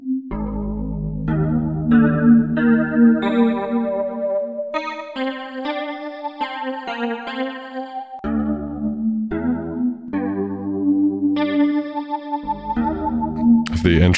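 E-MU Proteus Plus Orchestral synthesizer playing a slow patch resembling the Twin Peaks intro, sustained chorused chords shifting every second or two, loud and clean with a brief burst at the end.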